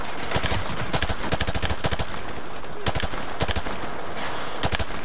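Rapid automatic gunfire fills the scene in Call of Duty: Modern Warfare 2, with dense bursts of shots in quick succession, loud and continuous throughout.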